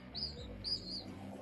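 Small birds chirping outdoors along a travel route from Sweden, a few bright high tweets in short bursts over a low rumbling background.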